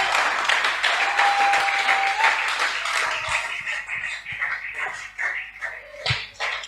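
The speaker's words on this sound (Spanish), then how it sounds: "Da ese aplauso al Señor." Church congregation applauding during a sermon, a dense wash of clapping that is loud at first, then thins into scattered claps and shuffling near the end.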